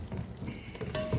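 Tomato rice stirred and fried over a low flame, heard briefly as a soft, close sizzle with a scrape of the spoon.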